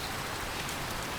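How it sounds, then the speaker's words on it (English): Rain in the survival game Card Survival: Fantasy Forest, a steady hiss of heavy downpour pattering on surfaces, constant and unbroken. "Oh no, it's raining like crazy."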